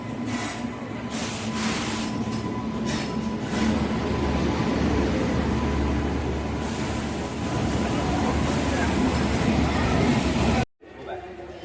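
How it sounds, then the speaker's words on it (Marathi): The Mysore–Mumbai Express rumbles steadily as heard from a first class AC coach, a constant loud rolling drone with clacks and a voice talking over it, ending abruptly. "ही आहे म्हैसूर मुंबई एक्सप्रेस"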